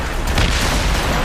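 A mortar shell bursts in a naval battle in Assassin's Creed Rogue, a loud low boom swelling about a third of the way in over a dense, continuous rumble of cannon fire and sea noise.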